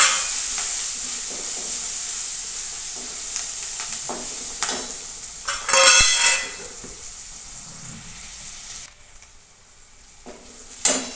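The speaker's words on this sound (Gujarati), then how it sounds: "હવે આપણે નાખીશું મીઠો લીમડો અને સૌથી પહેલાં તો આપણે વઘારમાં" Fresh curry leaves dropped into hot tempering oil for a gourd curry, giving a steady close sizzle and crackle with a sharper burst partway through, stirring clinks, and quieter frying near the end.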